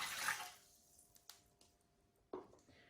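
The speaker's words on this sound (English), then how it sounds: "We will start with the 200 ml of water into the bread machine." About 200 ml of water is poured into a bread machine, a short splashing burst at the start followed by a few faint drips and light knocks in near silence.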